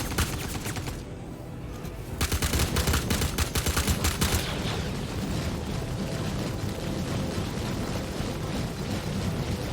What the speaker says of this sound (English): Commencing archaeology saturation bombardment.